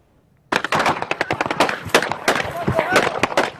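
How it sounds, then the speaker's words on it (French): Bursts of gunfire near a village a few kilometres north of Mosul, where Peshmerga fighters push in: dense, rapid sharp cracks begin abruptly and keep going without pause, loud and close, with voices faintly mixed in. "Les tirs sont incessants."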